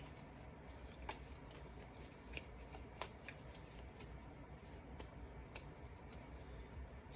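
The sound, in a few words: shuffling a deck of cards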